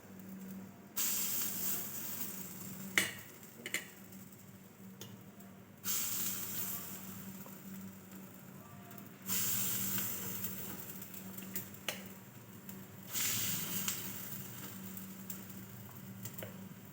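Rava dahi appe batter is spooned into a hot appe pan, sending out four separate bursts of bright, hissing sizzle with quieter gaps between them. Soft clicks of the spoon come through the gaps.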